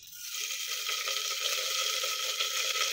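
Mustard seeds and other tempering spices sizzle in two tablespoons of hot oil in a pressure cooker, a close, steady, bright crackle that holds throughout.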